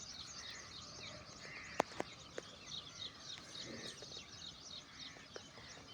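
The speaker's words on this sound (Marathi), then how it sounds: "पक्ष्यांचा किलबिलाट" Small birds chirp and twitter steadily at a moderate distance on a foggy village morning, with a few sharper calls standing out over a soft, constant outdoor background.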